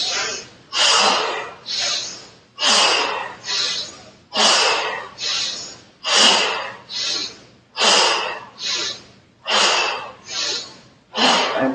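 Deep rhythmic breaths during a yoga meditation session, a dozen strong close inhales and exhales alternating in a steady cycle of about one per second.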